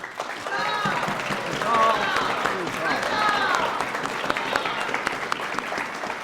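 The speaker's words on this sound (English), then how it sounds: "let us applaud them all!" An audience applauds at a 2024 historical reenactment event, dense steady clapping lasting several seconds, with cheers and whoops rising over it.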